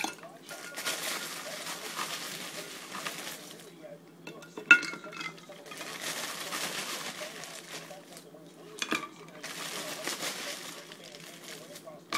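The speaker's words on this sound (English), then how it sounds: "Then ice, lots of ice." Ice cubes clink and rattle into a glass for a Hurricane Irene cocktail, bursts of clattering separated by quieter pauses, with a sharp clink near the middle and a voice speaking faintly in the background.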